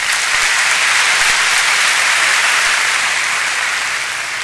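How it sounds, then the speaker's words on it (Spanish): Loud, dense applause fills a church congregation's hall, a continuous close wall of many hands clapping at full strength without a break, no voices standing out. "Denle un buen aplauso al Señor."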